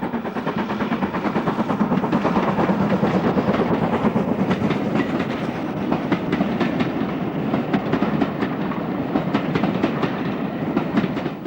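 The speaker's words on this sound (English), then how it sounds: "as the train threads its way through an attractive patchwork of fields and woods" A heritage train runs on the Bluebell Railway through fields and woods, with a loud, steady rumble and a rapid rhythmic clickety-clack of wheels on rail joints throughout.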